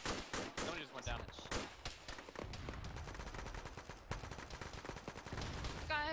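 Rapid bursts of gunfire from a military shooter video game (ShackTac), with repeated sharp shots and machine-gun volleys running throughout, loud and dense, with faint voices mixed beneath.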